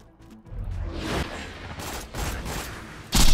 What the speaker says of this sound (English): Gonna get hit by this grenade again.